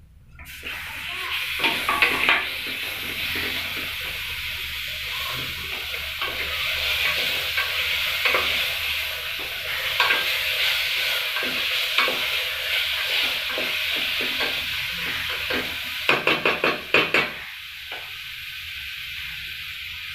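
Ginger garlic paste for chicken biryani sizzles and fries in a pan while being stirred, with a steady hiss and scraping strokes near the close and a short burst of clattering stirs near the end.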